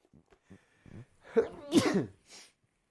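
A single sneeze rings out clearly, preceded by a few soft breaths and sniffs, then a faint trailing exhale.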